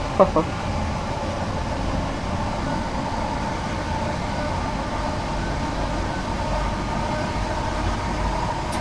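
A long freight train running from Dartford to Gillingham in Train Sim World 3 gives a steady, loud, continuous rumble and drone throughout, with a couple of brief clicks at the very start.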